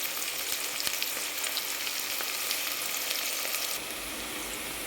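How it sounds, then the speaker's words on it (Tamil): Two large sliced onions fry in oil, giving a steady close sizzle with faint stirring scrapes throughout and no voices. "நான் எண்ணெய் ஊற்றி 2 பெரிய வெங்காயத்தை இந்த மாதிரி ஸ்லைஸா அரிஞ்சு நல்லா வந்து நான் வதக்கி விட்டுக்கிறேன்"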